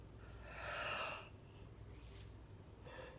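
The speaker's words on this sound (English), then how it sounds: "I'm yawning a lot in this video." A person yawns once, a drawn-out breathy exhalation swelling and fading over about a second, close to the mic in a quiet room, followed by faint breathing.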